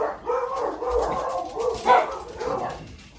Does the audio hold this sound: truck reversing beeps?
no